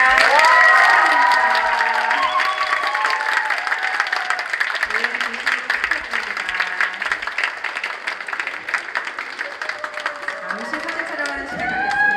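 An audience at a multicultural choir competition award ceremony in a Korean church federation event breaks into sustained applause and cheering, a dense clapping roar with shouting voices that carries on for several seconds.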